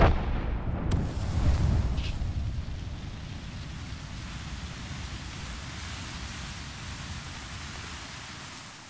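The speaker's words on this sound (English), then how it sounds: "Thermite grenade out." Thermite grenade in Apex Legends igniting with a sharp burst, then a loud, steady roaring hiss of burning that fills the scene at close range, with no talking.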